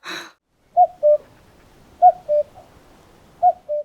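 Common cuckoo calling its two-note cuckoo call three times at a steady spacing, clear and moderately distant against quiet background, after a brief rustle at the start.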